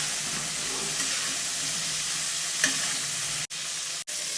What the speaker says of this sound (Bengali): মাঝে মাঝে একটু নেড়ে ফেলে নিতে হবে যাতে পটলগুলো ধরে না যায়